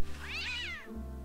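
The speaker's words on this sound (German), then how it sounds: "Ups, die Katze ist wohl sauer." An angry cat meows in the point-and-click adventure game Day of the Tentacle: one drawn-out, rising-then-falling yowl, clear and close over a steady low game music hum.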